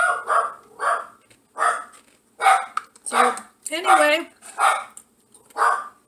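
A dog barks repeatedly in an even rhythm, about ten loud, close barks, with a brief spoken phrase mixed in.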